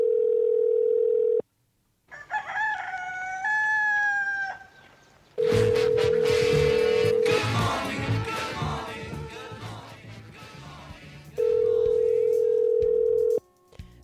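A telephone call: a steady, loud dial tone sounds in three separate bursts. Between them, rooster crowing and clucking chickens are heard along with other clutter.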